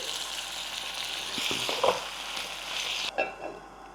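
Paneer and cashews frying in ghee give a steady close hiss, with spatula scrapes and taps in the middle and a sudden drop in the sizzle near the end.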